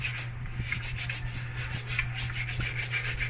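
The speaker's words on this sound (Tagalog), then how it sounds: "lihain natin ito liha lang ang katapat nito" Steady rhythmic scratchy rubbing of sandpaper on metal, quick back-and-forth strokes, close up with no voices.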